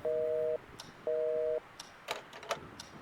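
Two long flat beeps of a telephone busy signal in the horror adventure game Scratches, loud and close, followed by faint clicks and small knocks.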